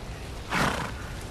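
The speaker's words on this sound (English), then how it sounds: "Sounds like a fucking horse." A chocobo in Final Fantasy Type-0 HD lets out a single loud, breathy horse-like neigh that swells briefly and fades over a steady game background hum.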